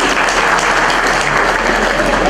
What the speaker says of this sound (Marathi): त्यांच्यासाठी एकदा जोरदार टाळ्या होऊ लागल्या